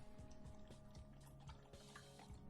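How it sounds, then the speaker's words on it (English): A dog laps drinking water in close-up, producing a steady run of wet, rhythmic tongue splashes against a constant background hum. "Let's get in close as the dog drinks water."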